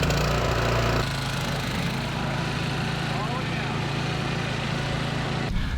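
A lawn mower scalps a lawn at a very low cut height, its loud engine droning steadily and close with a dense, rough roar that shifts slightly in load after the first second.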